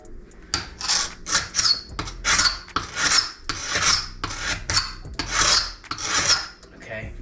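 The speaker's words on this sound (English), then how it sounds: "This is a normal paint scraper you get from Home Depot. It's got like 4 blades on it. You keep flipping around, has a burr." A dull, burred multi-blade paint scraper from a home store drags across a wooden house surface in repeated rasping strokes, close and fairly loud, with short pauses between passes and no talking.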